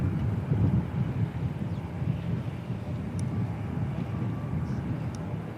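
A Boeing 747-400 freighter departing Christchurch Airport, its engine roar a steady broadband rumble heard from a distance and mixed with wind buffeting the microphone, holding level for several seconds.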